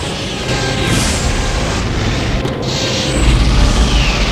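Spaceship weapons discharge in the space game FTL, a dense roaring barrage of booms and mechanical clanks with whooshing sweeps, sustained and loud, swelling into a heavier low rumble near the end.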